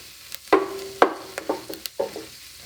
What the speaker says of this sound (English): just adding the garlic